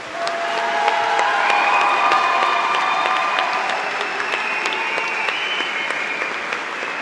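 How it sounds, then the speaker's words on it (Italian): A university graduation ceremony audience applauds in a full, continuous burst of clapping with some cheering and whistles over it, strong at first and holding steady for several seconds. "Potete applaudire."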